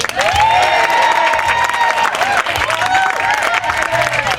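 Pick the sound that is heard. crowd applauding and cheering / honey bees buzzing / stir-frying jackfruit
crowd applauding and cheering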